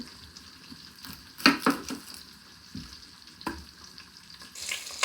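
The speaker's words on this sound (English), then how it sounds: "Keep stirring those around, trying to make sure they get browned on all sides." Food sizzling in a hot pan while being stirred and browned for jambalaya, with scraping utensil strokes and clatter bursting out over a steady low frying hiss.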